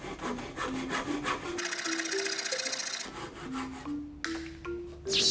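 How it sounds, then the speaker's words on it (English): Crosscut saw working a slant cut through wood, heard as steady back-and-forth rasping strokes, close and fairly loud, with the stroke rhythm changing partway through and no talking. "Now I'll try slant cut with the crosscut saw."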